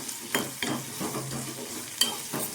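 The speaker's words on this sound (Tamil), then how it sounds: "இப்போது இதெல்லாம் நல்லா வதங்கட்டும்" Ginger and garlic sautéing in a pan for black chana kulambu, a continuous close sizzle broken by a few sharp stirring scrapes and clinks, with no voices.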